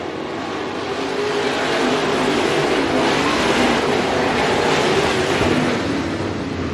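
Race cars roar around the oval at Bakersfield Speedway during the Mike Moshier Classic, a loud, steady wash of engine noise that swells slightly in the middle and carries on with no voices over it.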